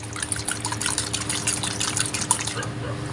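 A small bottle of liquid garlic essence is shaken rapidly up close, giving a quick, continuous wet sloshing rattle for a few seconds.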